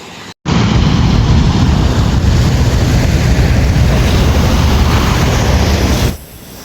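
Strong sea waves surging in Manila Bay during a typhoon, a loud continuous roaring rush mixed with heavy wind buffeting the microphone, starting abruptly after a brief gap and cutting off near the end.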